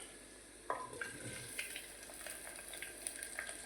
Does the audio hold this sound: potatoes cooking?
yes